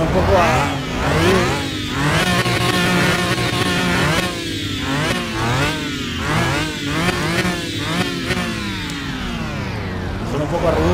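Lamborghini Diablo engine revved cold in Car Mechanic Simulator 2021, repeated sharp throttle blips rising and falling in pitch like a synthetic buzz, loud, with someone talking over it.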